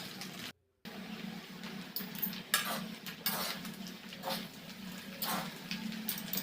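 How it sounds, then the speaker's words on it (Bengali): Pasta with carrot and beans in tomato sauce being stirred in a pan with two forks, giving soft repeated scraping and clinking over a low steady sizzle. "নাড়া যাচ্ছিল না, আমি তো 2টা কাঁটা চামচ নিয়ে ভালো করে নাড়ছি।"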